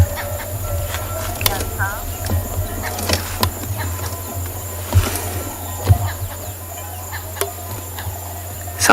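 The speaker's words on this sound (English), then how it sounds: "The cows going home, the old chicken clucking" Outdoors on an afternoon safari in the wilderness, a chicken clucks a few times at middle distance amid steady insect chirring, scattered cattle bells and knocks, with a voice talking faintly.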